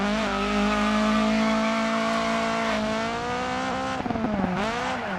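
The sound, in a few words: rally car engine and tires in video game DiRT 4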